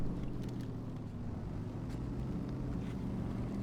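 A Detroit two-stroke diesel truck engine in SnowRunner, a deep steady drone with a dense low throb that holds even and continuous, moderately loud without speech.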